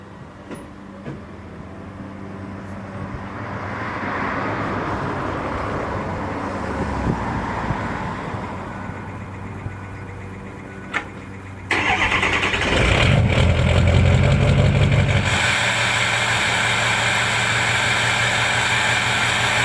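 A Ford 6.0 Powerstroke diesel with a 4-inch MBRP straight pipe, Air Raid intake and tuner cranks over during a cold start. It catches loudly and settles into a rough, rumbling idle that stays up close.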